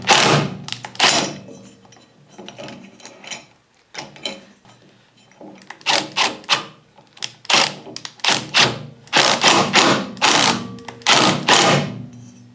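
An impact wrench works loose a seized pulley on a snowblower, firing in several loud bursts of rapid hammering with short pauses between them.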